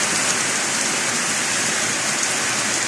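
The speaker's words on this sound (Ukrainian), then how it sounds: "А так, чудовий дощ." Heavy rain comes down in a loud, unbroken downpour, a dense steady hiss of drops pounding surfaces with no pauses and no voices.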